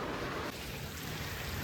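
Heavy rain pouring steadily outdoors in a village, a dense continuous hiss with low rumbling underneath, fairly faint overall.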